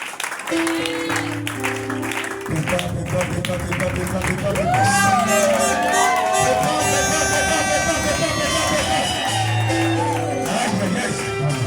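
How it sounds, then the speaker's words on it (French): A congregation at a French-language worship service lets out shouts and cries of joy, a loud, sustained mass of voices with clapping and babble mixed in, close and filling the whole stretch. "Ajouter les cris de joie pour la gloire de Dieu."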